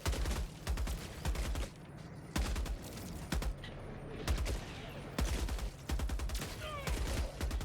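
Rapid bursts of gunfire in Helldivers 2 repeat in quick volleys, punchy and close, with short pauses between the rattling rounds.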